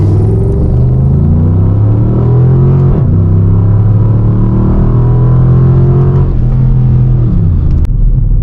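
A Dodge Charger RT forced into all-wheel drive launches hard in a 0-60 acceleration run, its engine roaring loud and close with rising harmonics that drop at each upshift, around three seconds and again near six, before easing off.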